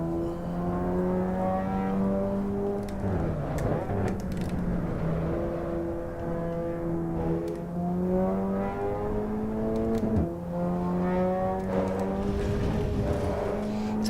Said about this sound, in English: I couldn't go on a long journey and have a noisy exhaust droning away in the background.